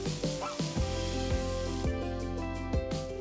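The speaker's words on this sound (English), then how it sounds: "Saute the tomatoes till they get mushy." Chopped tomatoes sauté in a hot pan with onions, giving a steady close sizzle. Gliding tonal sounds keep rising over the sizzle throughout, with no talking.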